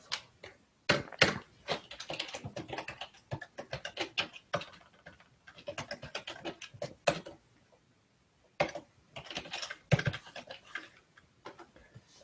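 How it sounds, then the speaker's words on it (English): Computer keyboard keys clatter in quick, irregular bursts of light clicks as code is typed, with short pauses between runs. The sound is close and fairly quiet, and no one talks over it. "I personally like typing out all of these things just for muscle memory and such."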